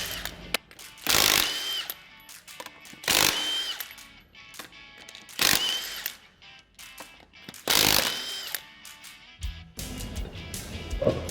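A power tool removing the front wheels and tires from a Polaris RZR Pro XP, firing in four or five loud, harsh bursts separated by quieter pauses, with clanking handling sounds in between.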